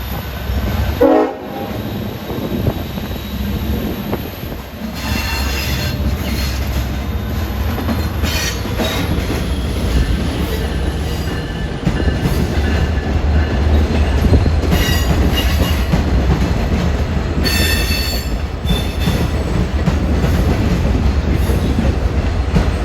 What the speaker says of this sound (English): 18 for Montauk is departing first off of 7